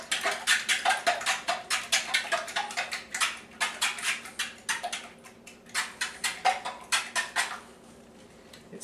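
Wet ingredients, including Worcestershire sauce, being mixed in a bowl: a rapid, rhythmic clatter of a utensil against the bowl in quick repeated strokes, close and clear, pausing briefly and then trailing off.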